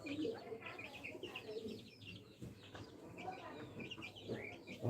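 Tiger hens cluck and chatter continuously in a busy poultry yard, with scattered chirps over a steady low background din.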